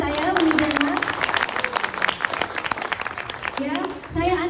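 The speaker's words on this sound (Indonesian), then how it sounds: "Tolong berikan tepukan untuk ibu saya, Wijana." Audience applause at a DXN national camp event, a burst of clapping breaking out near the start and swelling again toward the end, with voices and crowd noise in between.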